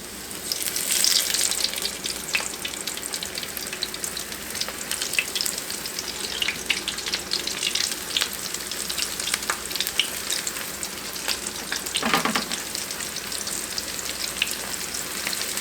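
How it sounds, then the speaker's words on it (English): Southern fried chicken sizzling steadily in hot oil, a dense continuous crackle and hiss that stays close and fairly loud throughout with no one talking. "Okay, I've got my chicken in frying"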